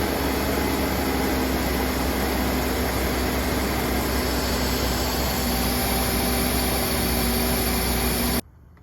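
A classic Mercedes-Benz with Jetronic fuel injection runs steadily just after starting, a close, continuous engine drone with a faint whine on top, cut off abruptly near the end.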